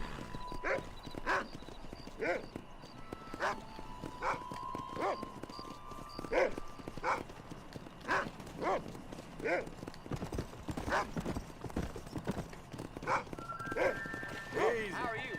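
Horse hooves clip-clop at a steady walking rhythm in Red Dead Redemption, close and fairly quiet, with a dog barking now and then and voices talking over the hoofbeats.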